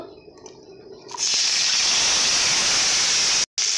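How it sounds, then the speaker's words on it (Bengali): Bitter gourd pieces hitting a hot pan: a short quiet stretch, then a loud sudden burst of hissing sizzle that holds steady and cuts out briefly near the end. "উচ্ছেগুলো ভেজে নেব।"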